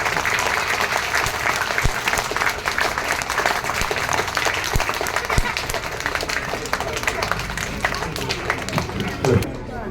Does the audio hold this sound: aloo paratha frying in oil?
no